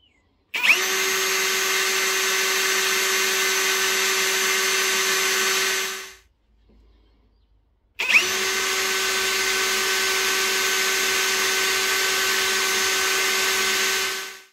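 A Procraft PA18BL cordless hobby drill runs at full speed in two long bursts, each a loud, steady high-pitched motor whine starting abruptly and winding down, separated by a short quiet gap.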